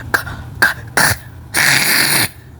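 Several sharp coughs ring out close up, three quick separate bursts followed by a longer, rasping hack.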